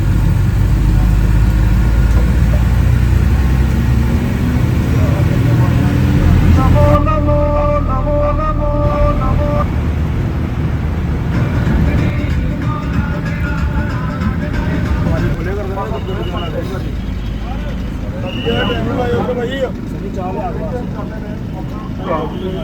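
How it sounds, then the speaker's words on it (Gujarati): A bus engine idles and pulls away from Bhagwatinagar on a pilgrimage trip toward Amarnath, a low steady rumble with brief horn-like tones and rattles over it, while passengers talk throughout. "ભગવતીનગરથી બસ ઉપડી"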